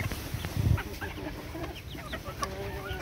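Several hens cluck and chirp close by in short, overlapping bursts over a low background rumble.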